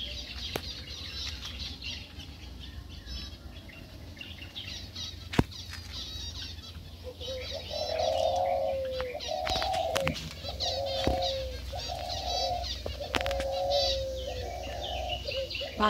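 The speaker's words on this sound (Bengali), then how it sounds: "পাখিদের নানা রকম আওয়াজও শোনা যাচ্ছে" Several birds call around a pond, and pigeons coo in a repeated run of soft, mid-pitched phrases through the middle of the clip over a low outdoor rumble, with occasional sharp clicks.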